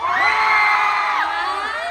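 A concert crowd at a pop music festival shouts a girl group's name in unison, a loud sustained cheer of many voices with high-pitched screams that swells and then tapers off.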